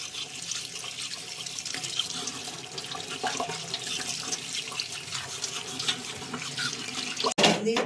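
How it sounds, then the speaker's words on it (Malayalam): Water pours steadily into a pot of ada pradhaman with ghee, a continuous splashing rush, ending in a brief clatter. "ഇതിലേക്ക് ശകലം കൊഴുപ്പ് കുറയാൻ വേണ്ടിയിട്ട് ശകലം വെള്ളം ഒഴിച്ചിങ്ങനെ കൊടുക്കണം"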